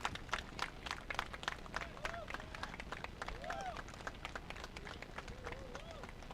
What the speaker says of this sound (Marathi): एकदा जोरदार टाळ्या होऊ द्यात